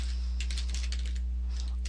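Quick keystrokes on a computer keyboard while a menu name is typed into a WordPress admin field, a short run of light clicks over a steady low electrical hum, close and quiet with no voices.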